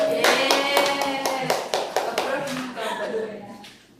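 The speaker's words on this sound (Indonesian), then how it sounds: "tepuk tangan untuk kelompok 2" A classroom of students claps for a group after a math micro-teaching lesson, with brisk rhythmic clapping mixed with voices that fades out over a few seconds.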